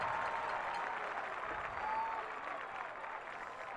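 A high school football crowd at Owasso applauds and cheers from the stands, a steady wash of clapping and voices heard from a distance, fairly faint and even.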